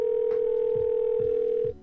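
A telephone ringback tone sounds while a radio studio calls a guest, a steady loud tone that holds for most of the clip before cutting off, with faint pulsing in the background.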